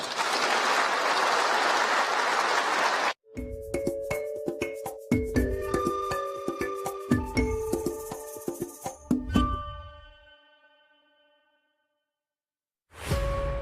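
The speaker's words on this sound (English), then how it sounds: "Can we give the constituency office another round of applause?" Dense, steady applause from an audience for a constituency office at a Namibian community event, loud and continuous for about three seconds before cutting off abruptly.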